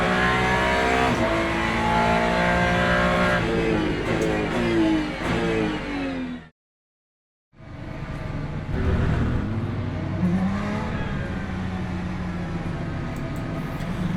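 Race cars at a wet race start in the Le Mans Ultimate video game, engines revving loudly and rising through gears, a brief silent gap, then more engine roar and passing cars with spray.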